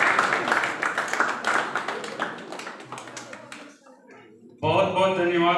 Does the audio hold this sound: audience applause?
yes